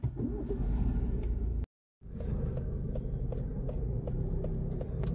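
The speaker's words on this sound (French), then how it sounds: "démarre le moteur" A car engine starting for a driving lesson in a parking-manoeuvre session, settling into a steady close idle rumble with a brief gap of silence partway through.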